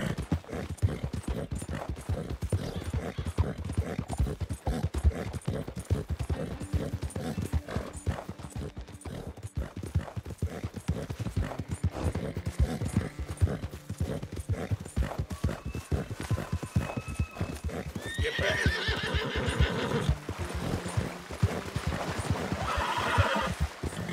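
Galloping horse hooves clip-clop in a steady, fast rhythm throughout Red Dead Redemption 2, with the horse whinnying and neighing near the end; loud and continuous with no talking.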